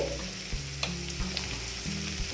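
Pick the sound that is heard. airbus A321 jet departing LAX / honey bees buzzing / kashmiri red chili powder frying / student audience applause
kashmiri red chili powder frying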